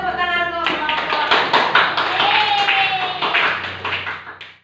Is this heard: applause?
yes